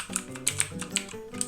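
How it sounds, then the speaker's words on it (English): Someone types quickly on a computer keyboard, giving a close, irregular run of light clicking keystrokes over soft background music. "So I'm typing in Photoshop"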